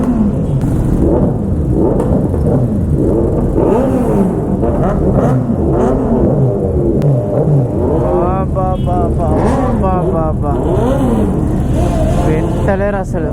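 Several motorcycles, three Kawasaki Z900s and a Ducati Streetfighter, idle and rev repeatedly nearby, loud engine rumble with rising and falling throttle blips clustered toward the end, while people talk over the noise.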